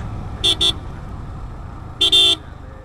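Car horns honk in a traffic jam, two short close toots followed by a longer double blast about a second and a half later, over a steady low traffic rumble.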